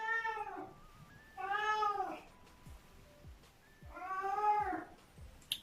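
A cat meows three times, each call drawn out with a pause between, heard up close and fairly quiet indoors with no one talking.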